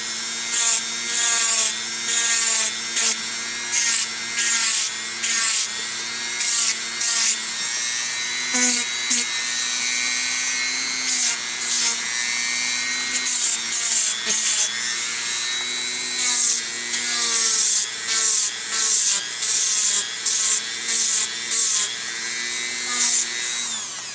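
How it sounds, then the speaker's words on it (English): A power tool runs on a Deathstroke helmet part, drilling in repeated short bursts with steady whirring between them, close and loud, with no one talking. "Drill."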